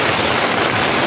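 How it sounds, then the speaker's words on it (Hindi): Heavy rain from a storm pours onto a bird shed, a dense, loud, unbroken hiss with no voices. "बारिश अभी भी हो रही है"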